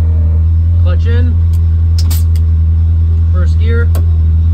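A Honda S2000 engine hums and idles steadily and loudly throughout while gears are shifted, with someone talking over the constant drone and a couple of brief mechanical clicks.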